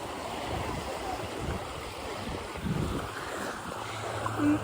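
Ocean waves wash steadily onto a beach in a constant broadband roar, with wind buffeting the microphone and a slight swell of surf near the end.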